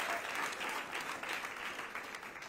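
Audience applause sustained for a few seconds, dense and even clapping from a large crowd at a youth gathering, without speech over it.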